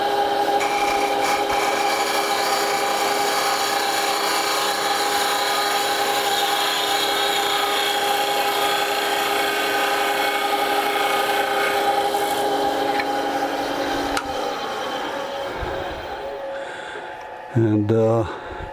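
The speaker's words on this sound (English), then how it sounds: "I'm just going to try and take a nice light sweeping cut, which actually gives very nice finish." A lathe gouge takes a light, sweeping cut on a segmented wooden bowl, making a steady, close scraping rasp with a faint whine. The cut runs unbroken for most of the clip before trailing off, with a few knocks at the end.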